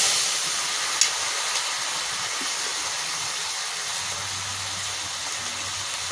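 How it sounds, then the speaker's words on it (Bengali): Water poured into a pan of frying ginger, garlic and chili paste sends up a steady steamy hiss, close and continuous, with a brief clatter early on and a low hum near the end. "এবার একটু জল দিয়ে দিচ্ছি"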